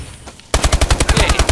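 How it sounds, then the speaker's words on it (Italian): Rapid automatic gunfire in Call of Duty Advanced Warfare on the Skyrise multiplayer map, a loud, close burst of about a dozen evenly spaced shots after a quiet start. "Attento che qua sparano e pure del brutto."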